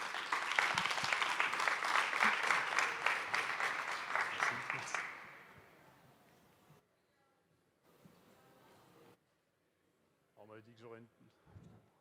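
An audience at a digital business event pitch session bursts into dense, steady applause that swells for a few seconds, then fades into quiet, followed by faint talk and a voice near the end.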